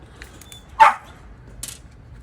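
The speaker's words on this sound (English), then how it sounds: "that's what my dog has to say about that" A single sharp dog bark up close, followed a moment later by a faint short yip, in an otherwise quiet workshop.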